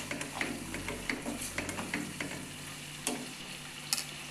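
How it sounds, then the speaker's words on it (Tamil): Onion and tomato with salt frying in a pan, soft steady sizzle under scattered light scrapes and clinks of a spoon stirring, close and quiet. "உப்பு சேர்க்கும்போது உள்ளி, தக்காளி எல்லாமே சீக்கிரமாக வறுபடுங்க"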